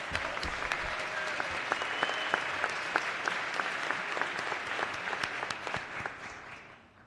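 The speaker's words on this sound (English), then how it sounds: "So please join me in giving them a round of applause." Sustained applause from a legislative chamber audience greeting a visiting state 3A championship volleyball team, steady dense clapping throughout that thins and fades toward the end.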